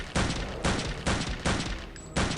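A rifle fires in the video game Return to Castle Wolfenstein. Five loud, booming shots come at an even, quick pace, each with a short rumbling tail, and no one talks.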